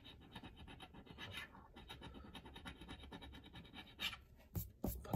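Rapid dry rasping of a coin scraping across a golf-themed scratch lottery ticket, a steady scratching run followed by a few sharper, louder strokes near the end, close up with no talking.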